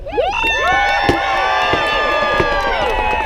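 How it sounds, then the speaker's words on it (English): Large crowd at a renaissance fair cheering, whooping and shouting loudly for an SCA armored fight demonstration, a dense continuous roar with children's shrieks rising above it. "The more you cheer, the harder we fight."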